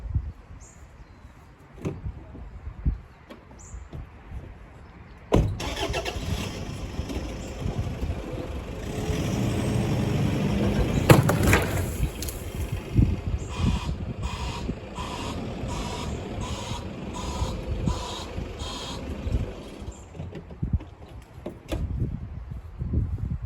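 4x4 diesel vehicle straining on a snatch strap to pull a tree out, a sustained engine roar and rumble with creaks and a sharp snap midway, then a series of rapid mechanical clatters and a brief outdoor lull.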